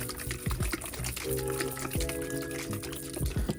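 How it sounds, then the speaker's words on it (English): Water sloshes inside plastic hydroponic nutrient bottles as they are shaken by hand, a busy, continuous liquid churn with quick splashy pulses, close and alone. "just close the lids and just shake them until they're completely dissolved, until you can just hear some normal water"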